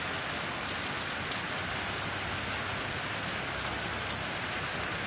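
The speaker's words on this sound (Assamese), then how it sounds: "একদম ৰাতিপুৱাৰ পৰা বৰষুণ পৰি আছে" Steady, heavy monsoon-season rain pours down continuously in an Assamese village, a dense even hiss of drops hitting surfaces with no pauses.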